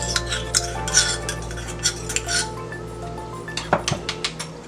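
Ginger garlic paste and ground masalas being stirred into curd with a spoon, giving repeated soft scraping and light clinks against the bowl, up close with no talking.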